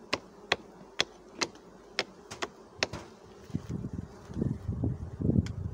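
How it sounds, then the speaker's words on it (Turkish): A dense, rising buzz of honeybees swarming close by in a hive as they warm up after cold, accompanied by a series of sharp regular ticks or clicks. "Arı soğuktan sıcağa gelince kaynaşmaya başladı."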